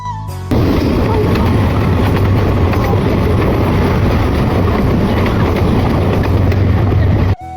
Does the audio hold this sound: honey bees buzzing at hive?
no